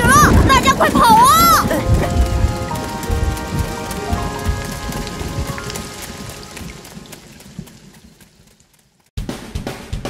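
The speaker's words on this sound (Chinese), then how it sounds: "下雨了，大家快跑啊！" Rain pours down in an animated 3D spinning-top cartoon, a steady hiss that starts loud and slowly fades toward the end, with musical tones and voices layered over it at first before the downpour returns abruptly.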